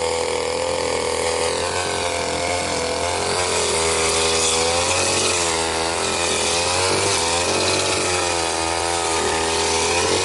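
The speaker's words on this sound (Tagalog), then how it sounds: "Ako kasi hindi masyado marunong gumamit ng grass cutter na yan." A grass cutter runs continuously and loud at a farm fishpond being cleared, a steady high-revving engine whine with a buzzing, slightly wavering pitch throughout, no voices over it.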